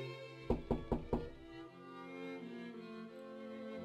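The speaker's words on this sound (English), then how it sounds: "he heard someone knock on the door" Four firm knocks on a wooden door in quick, even succession, close and clear, followed by a low sustained musical background with no voices.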